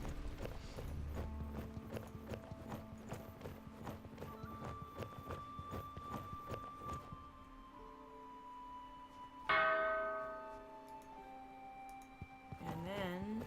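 A bell rings in the video game The Dwarves amid horse hooves clip-clopping, sustained tones layering over rhythmic clops, with a louder bright strike near the end.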